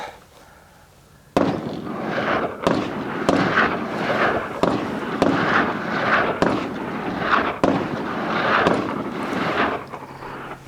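CZ-527 rifle fires Wolf Polyformance ammunition outdoors in a series of sharp, loud reports about a second apart, each with a short ringing tail.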